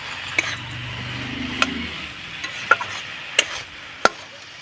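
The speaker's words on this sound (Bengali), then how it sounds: "এবার সব শেষে দিয়ে দিব সামান্য একটু ধনিয়া পাতা কুচি। একটু নাড়াচাড়া করে নেব।" Spiced potato filling with chopped coriander being stirred in a pan: a low quiet sizzle beneath several sharp metallic clicks and taps of a utensil against the pan, spaced irregularly.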